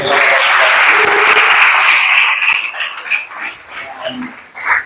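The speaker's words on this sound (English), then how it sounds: "Dr. Hani, another round of applause for him." A crowd applauds loudly for a couple of seconds, then the clapping thins out into scattered claps and fades.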